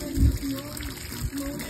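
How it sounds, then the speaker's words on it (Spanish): A short splash of water is poured over shrimp to rinse them before cooking, a brief gushing pour with a close burst at the start. "Un poco de agua"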